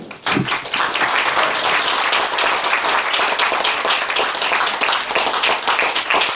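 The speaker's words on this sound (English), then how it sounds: "let's give Caroline another warm round of applause" Audience applause at the close of a history talk on the British Empire, loud dense clapping that holds steady for several seconds with no speech over it.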